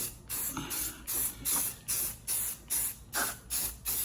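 Primer sprayed onto a rusty vintage motorcycle engine case in a rapid rhythm of about nine short, close hissing bursts, each under half a second, with no talking.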